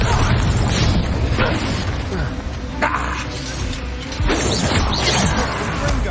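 Confringo blast spells fire in the Hogwarts Legacy video game among steady clashing combat noise, with sharp bursts and a heavier impact near the end.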